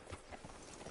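Faint horse hooves clopping at a slow walk in the Red Dead Redemption 2 video game, a few soft, evenly spaced hoof beats heard at a distance.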